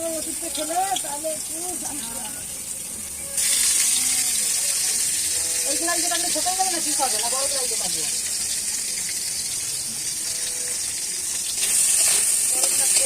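Onion sizzling as it fries in a pan for momo filling, a steady hiss that grows louder partway through as more goes in, with a voice talking over the frying.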